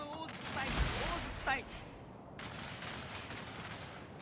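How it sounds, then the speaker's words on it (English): Artillery fire in a Shogun 2 battle game: after someone speaks briefly, a sharp distant blast rings out, followed by a sustained rumbling roll of guns that continues to the end. "let's see if we can reach out and hit the enemy with these artillery pieces here"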